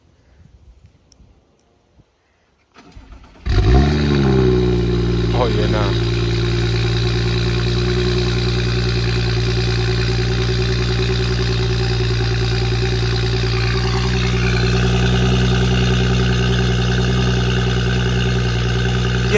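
An Infiniti G35 car engine cranks and fires on a cold start, then settles into a loud, steady, rumbling idle that runs without a break; a few words are spoken just before it catches.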